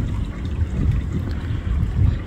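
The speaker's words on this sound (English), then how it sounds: "But I'll zoom up on the little creek." A small creek running full after storms makes a steady, close, low-pitched rush and gurgle of water with no voices over it.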